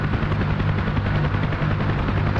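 The rotor of a UH-1H helicopter in a video game chops steadily and loudly, close and continuous, with a constant low engine drone beneath and no voices.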